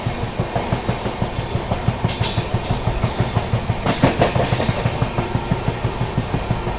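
Onboard the 12556 Gorakhdham Superfast Express at speed near Tundla Junction, a steady rapid clickety-clack of wheels over rail joints rolls under a loud continuous rushing rumble, with a brief rise of hiss midway.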